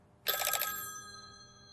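A telephone bell rings in one short burst of rapid metallic trills, loud and close, its tone lingering and fading out for about a second afterward.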